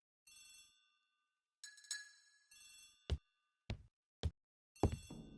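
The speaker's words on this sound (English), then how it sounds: "The telephone in the hall is ringing." An old-fashioned telephone bell rings in a hall in repeated bursts, interleaved with sharp knocks or clicks, fairly loud and close, with no talk.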